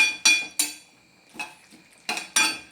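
Egg and potato curry is being mixed in a metal pot, producing several sharp clinks and scrapes of a spoon against the pot in irregular bursts with quiet gaps between them, close and without voices.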